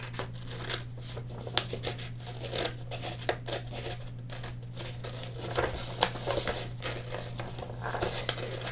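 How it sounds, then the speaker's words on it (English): Child-friendly scissors snip through paper while cutting out puppy puppet ears for a craft, giving quiet, irregular crisp snips and crinkles close by, with a steady low hum underneath. "you're going to take your child-friendly scissors, and we're going to cut the ears out together"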